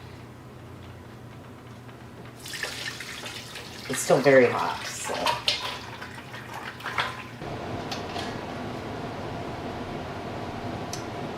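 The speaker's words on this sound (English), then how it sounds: "what I'm gonna do is just pour all of the contents of the crock pot into the strainer" Hot bone broth poured from a crock pot into a strainer gives a splashing, running-liquid sound lasting a few seconds, with a voice speaking briefly over it, followed by quieter handling noise.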